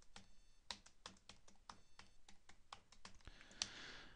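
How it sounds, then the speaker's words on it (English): Faint, quick keystrokes on a computer keyboard click out in an irregular typing rhythm, with a slightly busier burst near the end, in a quiet room. "So I typed in my Uppsala University number"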